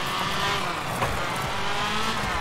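A rally car in the WRC 2: FIA World Rally Championship video game on PS3 slows for a right hairpin on a handbrake turn. The engine roars steadily, with a brief scuffing thud midway and gravelly tire noise throughout.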